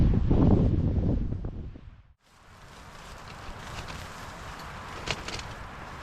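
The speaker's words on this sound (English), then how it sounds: "I don't think this wind is going to let up" Strong wind buffets the microphone at an exposed winter campsite, a loud roaring gust that drops away briefly, then returns as steadier rushing wind with faint rustling and a few knocks nearby.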